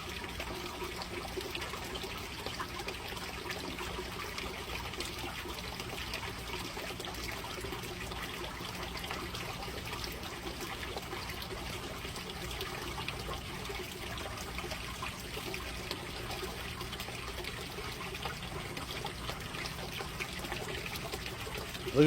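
Water drains steadily out of a garden grow bed, a faint, continuous trickle and gurgle heard alone for the whole stretch.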